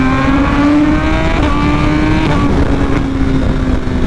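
A BMW S1000RR motorcycle accelerating hard, its loud, close engine note climbing steadily in pitch through the rev range with a brief dip at a gear change, no voices over it.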